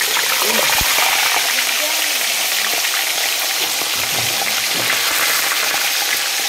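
Hot cooking oil sizzling steadily in a large wok, a loud, dense frying hiss throughout with a brief knock, and someone talking over it.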